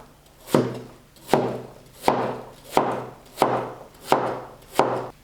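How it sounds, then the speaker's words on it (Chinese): Peeled Chinese yam being sliced with a knife on a cutting board: seven evenly spaced, sharp chops, each with a short scraping tail, close and clear with no talk. "切片。"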